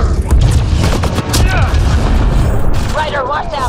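Rifle gunfire in the sci-fi shooter Mass Effect Andromeda, heavy booming shots repeating through the clip over loud battle noise, with voices talking in between.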